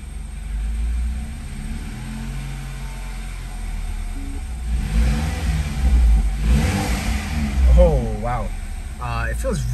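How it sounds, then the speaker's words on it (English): A BMW 328i with the N20 engine revs from a low idle rumble into two climbing revs near the end, with people talking over the engine. "Let's get a little rev going."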